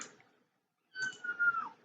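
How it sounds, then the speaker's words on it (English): A pet cat meows twice up close indoors, a short soft call followed by a pause and then a longer, louder drawn-out meow. "Sorry, it's my cat."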